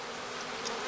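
Feral honey bees buzz in a brief, dense, continuous drone close at hand, loud and unbroken, with no voices over it.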